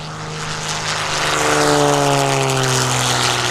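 A two-seat Extra 300 aerobatic plane with a 1,340 cubic inch, 600 horsepower engine throttles up at an airshow, its loud propeller drone swelling steadily and rising in pitch as the engine climbs in power.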